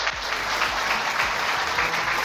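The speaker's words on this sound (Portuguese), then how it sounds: "Uma salva de palmas para ele." Steady, dense applause fills the room at a business breakfast of the Sorocaba Commercial Association, an unbroken wash of many hands clapping at fairly close range.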